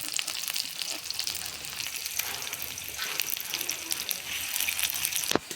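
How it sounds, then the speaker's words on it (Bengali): Chopped onions sizzle and fry in hot oil in a wok, a steady dense crackle with stirring scrapes throughout and a sharp clink near the end. "পেঁয়াজ কুচি, পেঁয়াজটা আগে ভাজি নেব"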